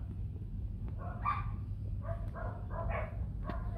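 White Bắc Hà village dogs giving several short yips and whimpers in quick bursts, nearby, over a constant low background hum.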